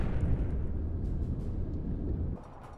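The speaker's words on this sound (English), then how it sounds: "Taking a hit from the torpedoes" Torpedo hits exploding against a U-boat in the submarine game UBOAT, a sustained low rumbling boom that fills the clip and then drops away sharply near the end, with no talking.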